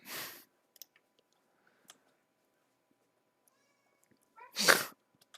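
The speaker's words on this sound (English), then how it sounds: "Cat is meowing up a storm." A cat gives two short, quiet meows, one at the very start and one near the end, separated by near-silence with a few faint clicks.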